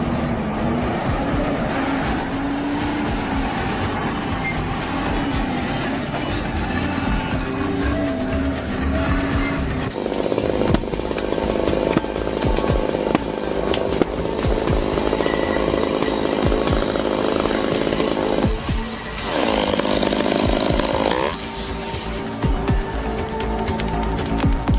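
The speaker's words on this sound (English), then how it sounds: "As the truck inches closer to the summit, the tension builds." A truck engine strains hard as it climbs toward a summit, a loud, continuous roar whose pitch rises and shifts as the load changes, with harsher bursts partway through and no voices.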